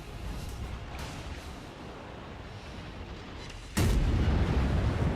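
A heavy naval gun salvo booms from a warship in the World of Warships game, a sudden loud blast near the end of a steady low rumble of engine and sea ambience.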